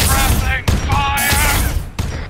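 Rapid bursts of gunfire from an Arma 3 Warhammer mod battle crack out loud and close in several volleys, while a player shouts over the shooting.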